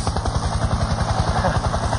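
Helicopter rotor thumps in a fast, steady rhythmic chop with a continuous engine whine, loud and close throughout.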